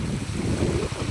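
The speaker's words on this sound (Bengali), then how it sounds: "দেখুন রাস্তা দিয়ে সব জল যাচ্ছে" Floodwater rushing down a road in Medinipur, a steady broadband wash of flowing water with a dense low roar, continuous and fairly loud throughout.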